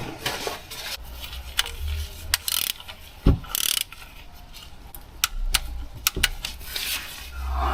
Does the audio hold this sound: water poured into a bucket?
no